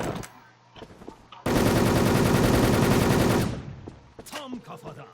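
Sustained automatic weapon fire in the WolfTeam shooter game, a dense unbroken burst lasting about two seconds, loud and close, framed by quieter game sounds and brief bursts of talk before and after.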